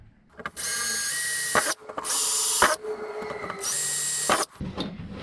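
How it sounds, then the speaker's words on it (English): A power drill whines in three separate bursts of about a second each, drilling mounting holes in a Kubota BX tractor cab, with brief pauses and small clicks and handling noises between them, close up. "Now we'll drill them out."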